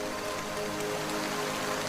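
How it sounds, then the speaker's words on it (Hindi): Heavy torrential rain pours steadily and loudly on a countryside road, a dense, continuous hiss of drops with no other sounds. "रामदीन, सुनो, इतनी तेज बारिश हो रही है"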